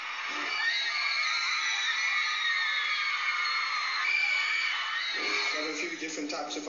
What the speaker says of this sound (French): Cris, larmes et crises d'hystérie à chacun de leurs passages, c'est l'émeute.